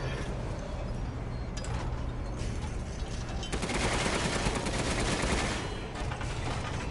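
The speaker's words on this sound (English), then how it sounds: "It is fun shooting these guys down." Rapid video-game gunfire sounds as enemies are shot down, with sustained dense bursts of automatic fire growing louder midway and continuing steadily.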